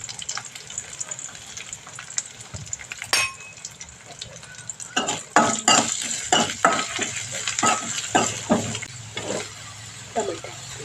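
Garlic sizzles and fries in a pan while a spoon stirs it, with scraping clinks and bursts of crackling that rise midway and repeat irregularly, close and fairly loud.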